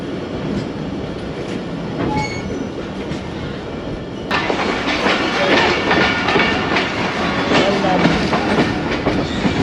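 39UP Jaffar Express running on a single line between Lahore and Rawalpindi, a loud steady rumble of wheels and carriages with rhythmic clickety-clack over the rails, heard from on board and growing rougher partway through.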